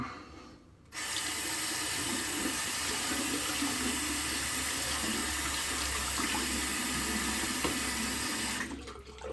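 Water from a faucet runs steadily into a sink, a continuous close splashing rush that starts abruptly and stops near the end, with no voices.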